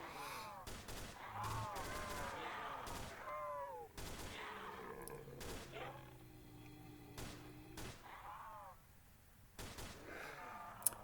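Bursts of gunfire from shooting zombies in the Roblox game Project Lazarus, rapid volleys and single shots in irregular clusters, mixed with zombie groans and game sound effects.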